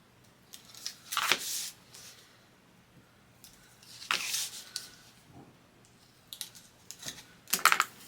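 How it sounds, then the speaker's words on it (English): Backing is peeled off a strip of score tape during a craft build, heard as several short, crisp crackling and tearing bursts separated by quiet pauses, close and alone. "I'm going to go ahead and get the backing off of my score tape"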